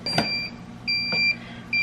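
Electronic beeps from a heat press timer just started, sounding as two or three short, clear tones in a steady pattern, close and moderately loud, with faint handling noise between them.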